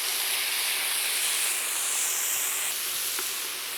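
Thick cut bacon, about a third of a pound, sizzles in a preheated pan with a loud, steady hiss that carries through without a break, and no one speaks.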